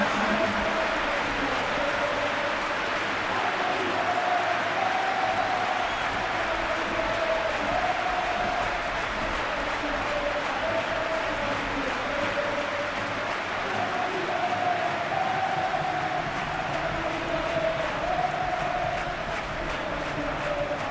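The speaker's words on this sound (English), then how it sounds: "Now the crowd are demanding that they just finish this off." Steady roar of a large football crowd at a Real Madrid versus Bayern Munich Champions League quarter-final, continuous and full throughout with swelling chants and cheering, no single voice standing out.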